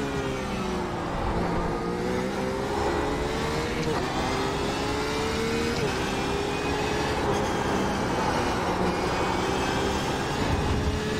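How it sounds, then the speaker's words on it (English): A Porsche GTE race car in the iRacing simulator runs at high revs, its high-pitched engine whine rising and dropping through shifts, loud and constant throughout. "The sound of this is very high pitched. Very Porsche-esque."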